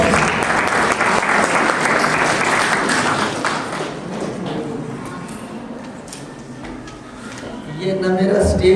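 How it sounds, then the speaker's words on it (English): A university audience gives a loud round of applause that gradually thins out and fades, giving way to murmuring voices and scattered sounds of movement, then picks up again toward the end. "Please, a big round of applause."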